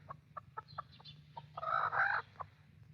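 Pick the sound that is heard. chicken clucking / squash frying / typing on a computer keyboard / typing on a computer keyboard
chicken clucking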